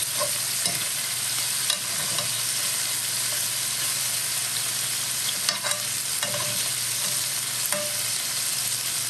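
Pork belly frying in its own rendered fat in a pan, a continuous loud sizzle and crackle with occasional utensil clinks and pops.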